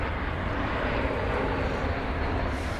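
An American Airlines airliner departing DFW airport produces a steady, broad jet roar at moderate distance, continuous throughout with no voices.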